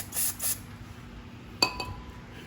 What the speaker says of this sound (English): You want to spray it with some carb spray